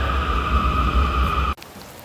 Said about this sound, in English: I know you hear that rain.